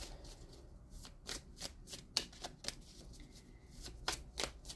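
Oracle cards for a spiritual-quest reading being shuffled by hand, a run of crisp riffling bursts and soft flicks at close range, quiet and with no talking.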